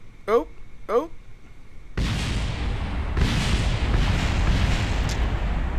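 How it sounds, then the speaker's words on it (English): Explosions in the Kerbal Space Program game as a vessel crashes, heard as a sudden loud burst of rumbling noise that stays dense and roaring for several seconds. Two short voiced sounds come just before it. "Explosions everywhere."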